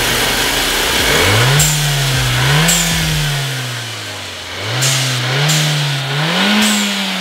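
A supercharged Infiniti Q50 engine revs loudly and close by in four or five repeated blips, each climbing then dropping back toward idle, with sharp whooshes as the throttle closes.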